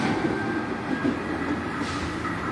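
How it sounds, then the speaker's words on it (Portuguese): A Brasília metro train pulls out of an empty station on the Tiradentes holiday, heading toward the south side of the city, with a steady, loud rolling rumble and rail noise that continues through the whole moment with no voices. "Lá vai ele, o metrô."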